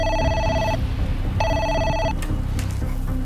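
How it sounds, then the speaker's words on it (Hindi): Telephone ringing with an incoming call in an office, two electronic trill bursts about half a second apart, loud and close over a low background rumble, with no voices. "हमारे नंबर पर एक टेलीफोन कॉल आई।"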